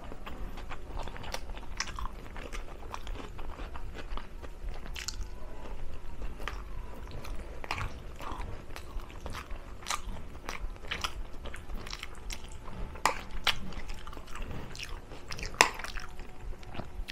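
Crunchy raw onion and hotdog being chewed up close, with repeated wet bites and crunches in an irregular rhythm over a faint steady background, no talking.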